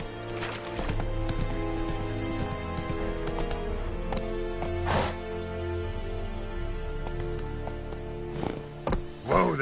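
Geralt's horse Roach gallops in The Witcher 3, a steady clip-clop of hooves up close, with an occasional whinny over tonal game music and a few sharper thumps.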